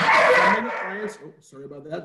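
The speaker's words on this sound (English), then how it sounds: "That's my dog." A dog barks a few quick, sharp times up close, overlapping a person speaking, then the voice carries on alone in a quiet indoor room.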